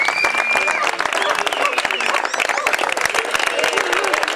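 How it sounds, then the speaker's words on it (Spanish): University students clap together at a campus ceremony marking the end of an occupation. The brisk, close applause carries on throughout, with voices and shouts rising over it. "Los estudiantes, con el aplauso, acompañan este gesto."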